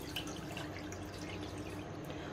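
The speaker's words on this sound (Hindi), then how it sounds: "इसमें हम ऐड करेंगे 2 गिलास पानी" Two glasses of water poured into a wok (kadhai) on a gas stove for falsa sharbat make a steady, close splashing and trickling that runs without pause and with no talking.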